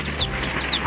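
A broody Silkie hen gives two short, close clucks in quick succession, alone and clear against a quiet farmyard background.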